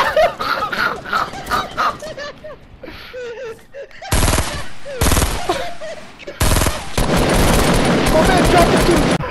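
Fortnite gunfire comes in loud, dense bursts of rapid shots. Excited voices talk over game sounds at first, then heavy automatic fire dominates the second half with short gaps between bursts.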